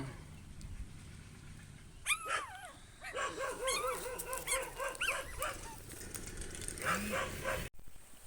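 A stray dog lets out a series of yelping, whiny barks and cries, several in quick succession, fairly close, over a quiet background.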